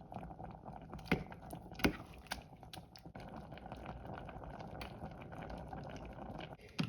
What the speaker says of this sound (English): This simmering evaporates the water, intensifies the tomato flavor